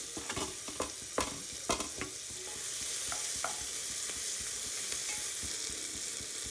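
Tomato fries with cumin, pepper and cinnamon in a pan for bagara rice, stirred with a few sharp scraping knocks before a steady, close sizzle takes over.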